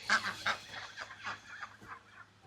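Several ducks give loud, close honking quacks in a quick run, the calls then growing softer and more scattered.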